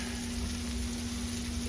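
Sausage browning in a cast iron pan for old style sausage gravy, a steady close sizzle and crackle of frying fat that stays constant through the short moment with no talking.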